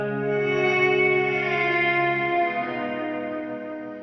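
Electric guitar run through a reverse non-linear reverb pedal on a pedalboard, a sustained wash of swelling harmonics that holds steady and slowly thins out, with no talking.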